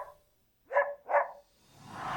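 A dog gives two short, sharp barks close by in a quiet room, followed by a rising soft rustle.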